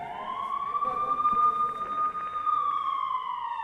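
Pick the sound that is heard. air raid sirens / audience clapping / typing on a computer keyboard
air raid sirens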